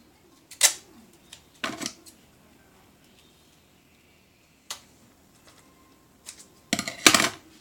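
Scissors snip through duct tape to cut a square for a child's mask: a couple of sharp crisp cuts near the start, a lone snip midway, then a denser burst of cutting at the end, close and fairly quiet.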